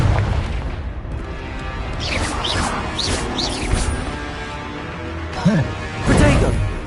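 Blasting-spell explosions in the video game Hogwarts Legacy, booming crashes and bursts with whooshing magical effects over steady combat noise, with a swell near the end.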